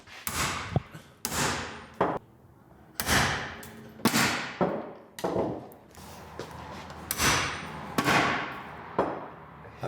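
Heavy blows strike a lowered Renault camper van, about ten loud thuds and bangs with metallic ring at an irregular rhythm, close by and alone.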